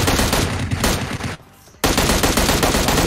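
Rapid automatic gunfire in PUBG Mobile: loud, close bursts of shots, a short gap of near quiet partway through, then another sustained burst to the end.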